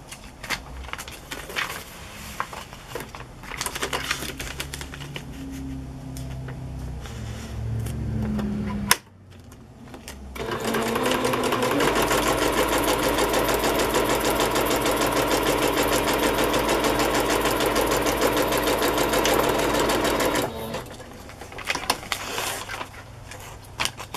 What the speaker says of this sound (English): Some I just stitched them on the front